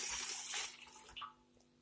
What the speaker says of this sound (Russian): 200-250 миллилитров воды обычной теплой.